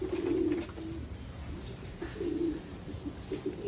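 Pigeons raised from eggs brought from Japan give soft, low cooing calls at close range, with two distinct bursts of cooing and quieter murmurs between them.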